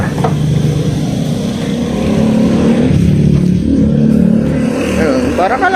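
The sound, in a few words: Piaggio Ape 200cc EFI three-wheeler engine while driving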